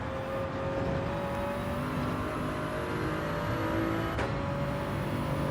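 Race car engine in the Gran Turismo 7 video game held flat out, a loud, steady, high-pitched whine with rising harmonic tones and one brief gear-change dip, close and continuous, no voices.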